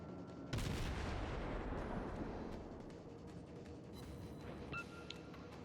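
Naval guns from a warship in World of Warships, a Hatsuharu destroyer battle: one heavy boom opens the clip and its rumble fades slowly over several seconds, with fainter game effects and a few short bleeps after it.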